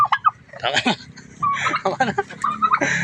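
Poultry cluck and squawk up close in short bursts, mixed with people talking nearby.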